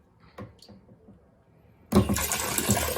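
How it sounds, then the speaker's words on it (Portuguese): A couple of faint knocks and clicks come first, then water suddenly rushes down through an aquarium sump overflow hose with a loud, steady, close gurgling flow. "Olha, começou a escorrer água"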